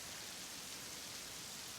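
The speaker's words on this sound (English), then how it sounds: "Rainy." Steady rain falls in a soft, even hiss, faint and continuous with no voices over it.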